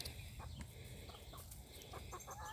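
Chickens, one rooster and six hens, cluck softly and intermittently against a quiet outdoor background.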